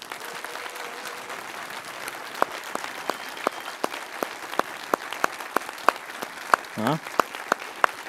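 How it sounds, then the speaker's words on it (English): Audience applause fills a developer conference talk hall at code.talks 2018, a dense, steady patter of many hands clapping throughout, with a few sharper individual claps standing out and a brief voice near the end. "I have to ask you once more to give me applause. You have to be as loud as before"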